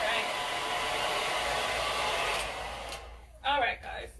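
A hair dryer blows steadily to dry paint on a flatware storage chest, a loud continuous whoosh that cuts off after about three seconds, followed by a brief burst of speech.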